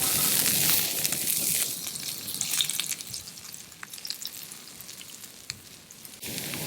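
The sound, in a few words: shallots and garlic frying in oil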